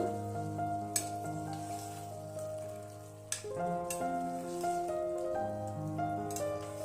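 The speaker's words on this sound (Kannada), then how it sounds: "ಇದಕ್ಕೆ ನಾನು ಒಂದು ಟೊಮೆಟೊ ಕಟ್ ಮಾಡಿ ಹಾಕ್ಕೊತಾ ಇದ್ದೀನಿ" Chopped tomato going into a hot pan of sizzling oil for chicken biryani, a steady close frying crackle with a clunk as it lands, then stirring scrapes while the sizzle continues.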